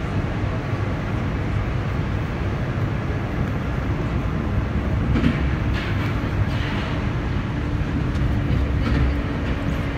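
Inside a Toulouse metro Matra VAL 206 train, a steady rolling rumble and whine runs throughout with faint clicks and rattles, continuous and fairly loud.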